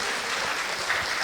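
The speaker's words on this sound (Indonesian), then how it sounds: "Tepuk tangan bagi Allah kita" Steady applause from a church congregation, a brief continuous burst of many hands clapping with no talk over it.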